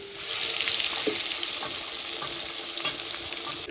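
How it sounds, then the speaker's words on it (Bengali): Koi fish fry in hot oil with a loud, continuous crackling sizzle, close by, with faint pops scattered through the steady hiss. "সেমভাবে বাদ বাকি দুটো মাছও ভেজে নেব"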